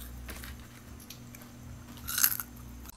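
Close, quiet chewing of crunchy fried potato mojos, with soft crunches and mouth sounds building to a brief louder crunch near the end, and no talking.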